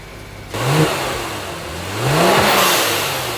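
Kia Stinger fitted with catless downpipes revving at cold start with exhaust valves open, a loud close engine note that rises sharply, holds, then swells again with a second rev.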